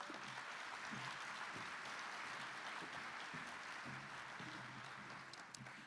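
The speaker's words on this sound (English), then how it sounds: "Let's give her a round of applause." A banquet-room audience at a benefit luncheon for a homeless-children charity applauds steadily for about six seconds, a dense, fairly faint wash of clapping with no talking over it.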